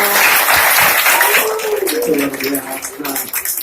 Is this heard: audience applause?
yes